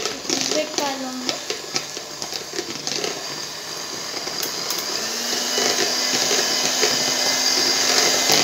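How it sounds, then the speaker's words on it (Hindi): Butter being whipped with an electric beater for pound cake, a steady motor whir that builds and holds through most of the stretch after some early clatter and a few brief voiced sounds. "अब ये सब बटर मैं बीट कर लूँगी।"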